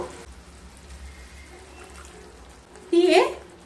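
Water used to rinse the spices splashes into a pan of chhana kofta curry holding cashew, melon seed and poppy seed paste; one short, loud pour comes near the end after a quiet stretch.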